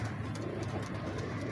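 Teddy pigeons coo in low, throaty rolling calls that repeat over one another, close and steady, with soft rustling around them in the loft.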